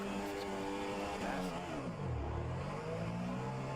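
An F1 race car engine roars in a racing video game's Azerbaijan Grand Prix, a loud, continuous whine whose pitch drops and then climbs again as the car passes down the straight.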